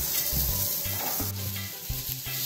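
Garlic, wine and shallot oil sizzle in a pan while grilling shrimp for alfredo pasta, a steady close hiss over a pulsing low hum, without speech.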